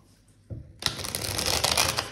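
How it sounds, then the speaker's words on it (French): Tarot cards shuffled by hand, a deck of fairly stiff cards riffled in a dense continuous flutter that starts abruptly and keeps going close up, after a brief soft tap. "on va bien mélanger le jeu"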